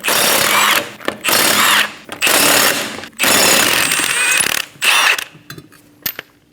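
An impact wrench with a 21mm socket spins lug nuts off a 2008-2015 Scion xB rear wheel, loud harsh rattling bursts repeated five times with short pauses between.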